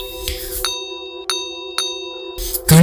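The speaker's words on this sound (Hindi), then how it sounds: "तभी दूर मंदिर की घंटी" A temple bell rings with a few clear, ringing strikes whose tones hang and overlap, heard at a moderate distance in an eerie horror-story setting.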